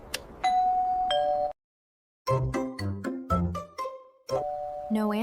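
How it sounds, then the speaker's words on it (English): A two-tone ding-dong doorbell chimes clearly and alone, rings once, pauses, then sounds again in repeated bursts at a house in the snow. "Let me try the doorbell."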